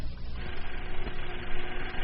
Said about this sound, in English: That is the sound of a movie projector.